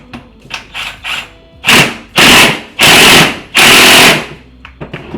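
A tool torques down a Jackson Racing upgrade supercharger pulley on a D16Y8 engine: several quick clicks, then four loud, harsh mechanical bursts close by, followed by a few more light taps.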